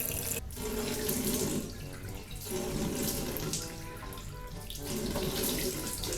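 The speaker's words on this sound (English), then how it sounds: "So I'm gonna wash my face first" Tap water runs steadily into a bathroom sink during face washing at home, a close, continuous splashing flow with brief dips as hands move through the stream.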